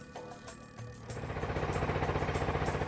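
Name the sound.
engine of a kelotok motorboat on the river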